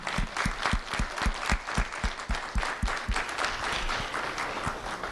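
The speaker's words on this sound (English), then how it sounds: "Everybody, please give them a round of applause." Audience applause for students standing at a school assembly, a steady wash of many hands clapping with sharp individual claps cutting through, moderately close and sustained throughout.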